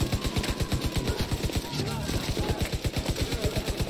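Rapid automatic gunfire rattles through a firefight in The Division 2, a steady fast pattering of machine-gun bursts running the whole stretch at close range, with a voice talking faintly underneath.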